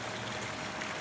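Soft, steady trickle and hiss of water from a drip irrigation system in a home yard, a continuous low wash with no voices.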